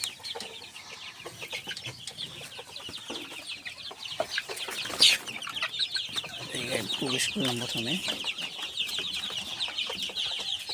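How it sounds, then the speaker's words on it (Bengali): Around 150 Sonali Classic chickens clucking inside a poultry farm shed in the morning, with many overlapping clucks and calls close by and a person briefly speaking over them. "প্রথমে আমরা এখন সোনালী মুরগির খামারে ঢুকছি।"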